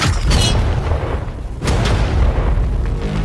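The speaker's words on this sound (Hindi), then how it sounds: "ये 5 टैंक्स पैसों पर निशाना लगाकर 20 राउंड फायर करने वाले हैं" Tank cannon firing a shot at a target outdoors, a heavy booming blast with rumbling low end, followed by a second thudding burst and lingering roar.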